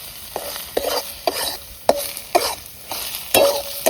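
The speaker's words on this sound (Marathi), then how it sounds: "दोन चमचे मसाला टाकून असं तळून घेते चांगलं" Spice masala frying in a pan, a constant crackling sizzle under a quick series of metallic scrapes and clanks from the stirring spoon.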